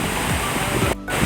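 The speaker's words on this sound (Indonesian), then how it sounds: "Nanti kita rasakan bagaimana sensasi di depan air terjun ini." Steady broadband roar of a waterfall (curug) at Panjalu, heard close and continuous with a brief dip partway through.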